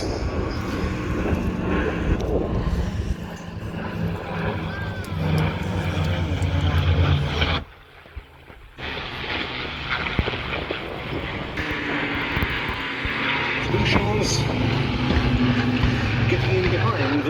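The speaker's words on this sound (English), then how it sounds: "The Republic P-47D Thunderbolt, that great beast, 2 Mustangs." A Republic P-47D Thunderbolt and two Mustang fighters fly over the Duxford Battle of Britain air show, their piston engines droning loudly and fading briefly before roaring back, with a commentator talking over them.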